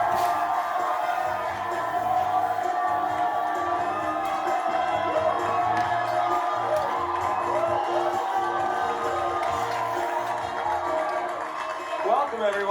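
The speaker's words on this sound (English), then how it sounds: "Applause for all of our couples today." A studio audience at a 1996 television game show applauds and cheers in a dense, steady roar lasting over ten seconds, with scattered whoops and talk mixed into the crowd noise.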